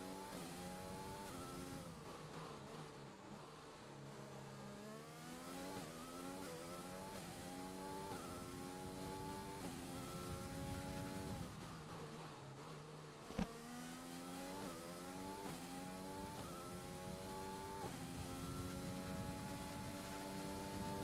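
Sustained F1 race car engine in Project Cars 2 on a flying lap at the Brazil circuit, loud and close, rising and falling through repeated gear shifts and revs with a brief sharp click midway, no talk.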